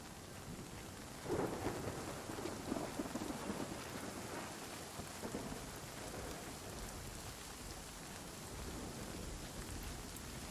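Steady rain hisses throughout while low thunder rumbles in the background, swelling briefly early on, in the video game Nightingale.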